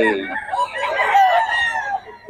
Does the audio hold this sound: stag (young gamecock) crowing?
yes